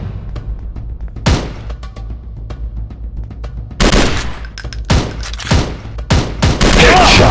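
Gunfire from a mobile shooting game: sharp single shots early, then dense bursts of automatic fire and loud blasts building toward the end, with faint game voices underneath.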